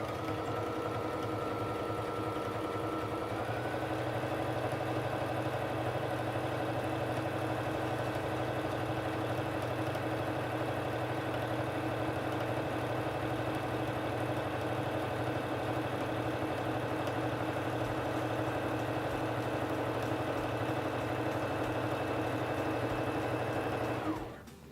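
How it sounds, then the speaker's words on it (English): A Singer Fashion Mate 3342 sewing machine stitches fabric in a steady, continuous mechanical whir that runs unbroken at an even, close volume for the whole stretch and stops abruptly at the end, with no voices. "press on the foot control to begin sewing"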